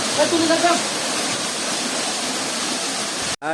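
A steady, loud rush of falling water from a waterfall at the foot of Chandra Dinga hill in Kolmakanda, Netrokona, roaring without a break and briefly cut off near the end.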